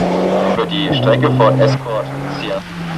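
Group N rally car, 1993 Hunsrück Rally: a close, loud engine note shifting pitch through gear changes, with a commentator talking over it throughout.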